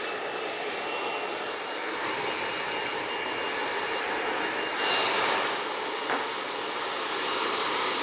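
A blow dryer running on a client's hair after a haircut in a barbershop, a loud steady whooshing roar that holds for several seconds with slight shifts in pitch as it moves, with no talking.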